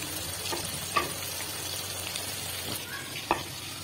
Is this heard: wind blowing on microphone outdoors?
no